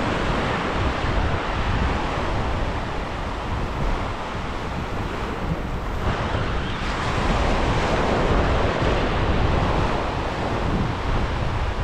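Ocean surf rolls and breaks steadily on a beach during surf casting for big fish, a loud continuous wash of waves mixed with wind buffeting the microphone, with no voices heard.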